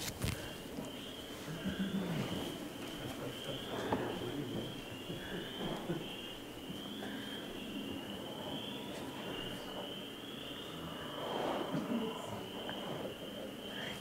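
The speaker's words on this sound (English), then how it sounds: "You can hear frogs." Frogs and spring peepers call from a played recording, a steady high peeping chorus running throughout at moderate distance, with scattered lower croaks and faint room noise beneath.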